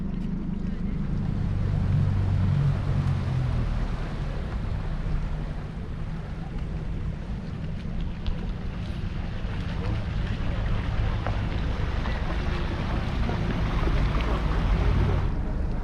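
A small boat motors steadily across open water, its engine droning low beneath constant wind buffeting and water rush.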